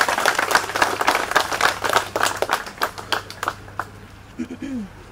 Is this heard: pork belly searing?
no